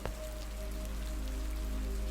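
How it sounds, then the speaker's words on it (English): Steady rain falls on a cabin in the woods, a dense continuous hiss of drops with a low rumbling undertone, even and unbroken from start to finish. "On a rainy day like today"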